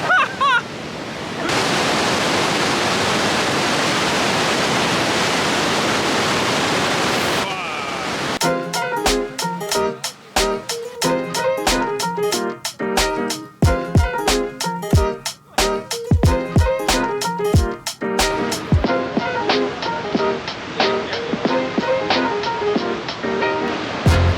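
A waterfall roars as a loud, steady wash of rushing water for several seconds near the start, then gives way to sharp, rhythmic clicking sounds.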